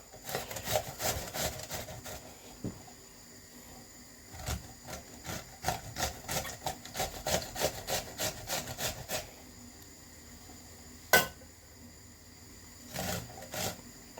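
Cucumber is coarsely grated for tzatziki, giving quiet repeated rasping strokes in quick runs, separated by pauses, with a single sharp knock near the end.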